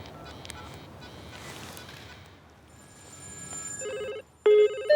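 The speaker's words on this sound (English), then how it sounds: "We've got a further 100 mobile phones ready to ring them." About a hundred mobile phones placed around an egg in a microwave start ringing, their electronic ringtones stacking into steady layered tones that grow louder toward the end over a background hum.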